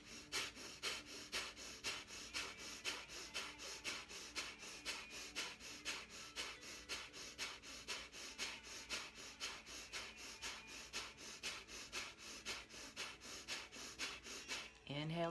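Deep, rhythmic breathing during a guided breathing exercise, steady paced inhales and exhales repeating evenly throughout, close and clear.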